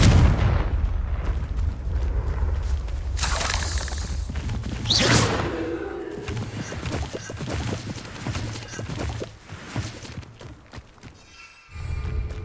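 Spell blasts from Confringo in the video game Hogwarts Legacy, loud booming thumps and whooshes with a sharp burst near the middle, layered over low rumbling game effects without any talk.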